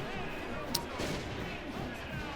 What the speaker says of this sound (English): That was a loud cannon.